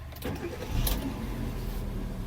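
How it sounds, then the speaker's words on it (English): A manual-transmission car engine, in neutral, cranks briefly and catches, then settles into a steady low idle rumble close by. "I will turn on the ignition and let's start the car."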